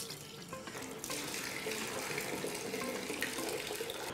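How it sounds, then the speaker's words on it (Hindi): Lentils for dal makhani are rinsed under running water, with a loud, continuous splashing of tap water into a bowl or sink that swells after the first second and keeps flowing. "कई लोग कहते हैं कि यार दो बार धो लो दाल, तीन बार धो लो, मेहनत करो, जोर लगाओ, अच्छे से रगड़ो"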